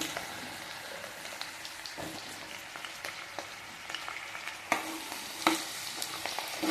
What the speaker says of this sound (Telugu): ఇట్లా ఆయిల్లో కొంచెం వేయించుకొని లైట్ బ్రౌన్ కలర్ రాగానే తీసేయాలి